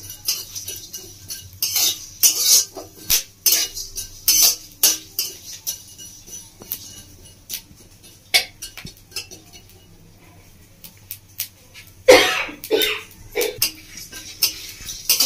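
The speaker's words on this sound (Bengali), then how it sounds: "ভেজে ততক্ষণ না মশলা থেকে মিষ্টি গন্ধ হচ্ছে, ততক্ষণ এখানে নাড়তে থাকবো" Spices dry-roasting in a pan as a spoon stirs them, making repeated close metallic scrapes and clinks in irregular bursts over a low background hum, with a cluster of louder scrapes near the end.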